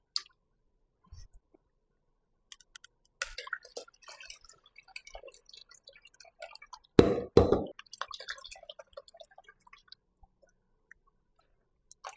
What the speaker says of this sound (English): Now I'm just squeezing out all of the coconut milk.